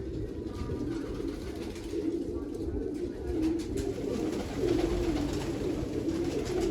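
Pigeons coo softly in a low, continuous murmur while feeding on grain, a flock close by with rolling calls layered over steady ambient noise.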